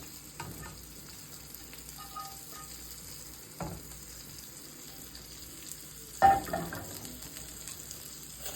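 Shrimp going into a frying pan seasoned with garlic seasoning, with steak cooking alongside, give a steady low sizzle broken by a few stirring clatters, the loudest near the end, with no talking.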